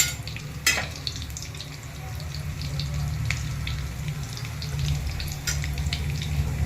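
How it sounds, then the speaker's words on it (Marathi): Garlic frying in a pan for dal karela, a steady, quiet sizzle running throughout, with a couple of sharp clinks from stirring near the start and scattered crackles. "त्यानंतर आपण इथं लसूण सोडूया लसूण मस्त लाल होऊ द्यायचा"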